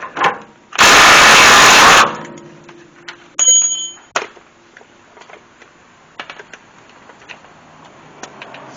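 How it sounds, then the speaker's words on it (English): Pneumatic impact gun with a socket on the pitman arm nut of a Crown Victoria or Grand Marquis gives one loud one-second burst, followed by clanks and light tool clicks nearby. "I'll put her on the old impact gun, make sure she's on."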